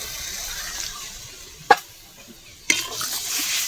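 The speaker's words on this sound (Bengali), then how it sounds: "এবার আমি জল ঢেলে দেবো, আর একটু জল দেব।" Water is poured twice into a hot pan of frying potato-poppy seed curry, two sudden splashing hisses against a quieter sizzle.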